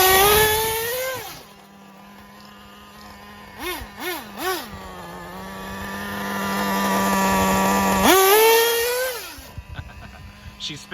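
Traxxas Jato 3.3 nitro RC car engine screaming high and close, with a long rev, three quick blips, a sustained buzzing idle, then another long high rev that fades, with someone talking faintly at the start.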